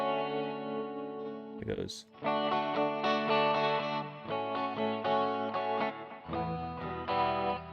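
Electric guitar played through an effects unit with heavy distortion during a live jam, sustained chords and notes ringing with a saturated, layered tone after a brief spoken word near the start.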